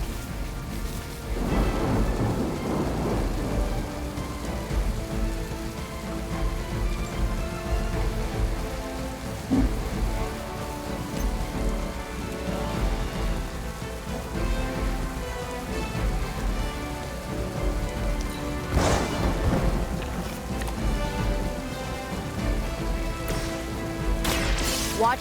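Thunderstorm attack in the video game Marvel Midnight Suns: steady heavy rain drumming on surfaces with rolling thunder and several loud sharp cracks, a continuous dense storm with no talk.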